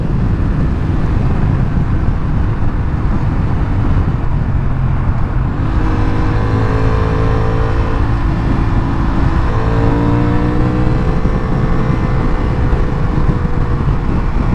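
A new Honda Hornet motorcycle accelerates hard uphill, its engine loud and close in a continuous roar with rising pitch sweeps through the gears, mixed with heavy wind rush.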